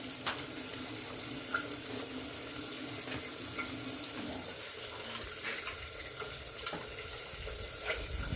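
Hot water runs steadily into a pan of cooking mung dal and vegetables, a continuous close splashing pour with no voices.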